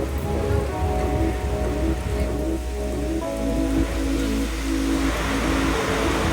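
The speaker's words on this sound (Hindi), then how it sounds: "बढ़िया बारिश हो रही है भाई।" Heavy rain drums steadily on the surface of a train travelling from Guwahati in Assam, a dense, constant downpour hiss with a low rumbling undertone and no voices.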